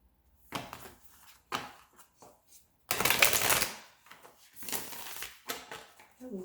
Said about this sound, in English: Let's go ahead and get this shuffle in.